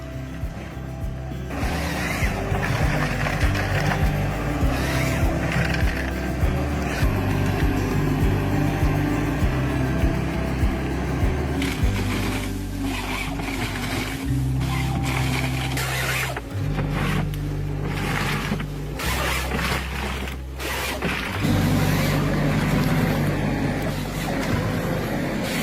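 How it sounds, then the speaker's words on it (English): A John Deere 640H tree harvester's engine roars in a forest, a loud, steady, low rumbling drone that runs through the whole stretch with small shifts in pitch and load and no voices. "The engine roar echoes throughout the entire forest."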